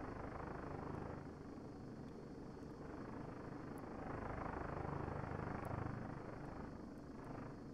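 A video-game helicopter drones steadily throughout, its rotor and engine forming a constant broadband roar with no pauses or talk.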